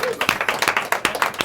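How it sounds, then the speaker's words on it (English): A short round of applause from a seminar audience, loud, close, uneven claps in quick bursts that rise and fall, with a few voices mixed in. "Let's give that a round of applause"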